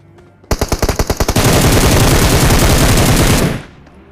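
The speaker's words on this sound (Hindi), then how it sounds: "वो बंदा एकदम से मेरे ऊपर फायर करना चालू कर देता है।" Gunfire in a battle royale video game: a string of about eight distinct rapid shots, then a loud, sustained burst of automatic fire lasting about two seconds before it cuts off.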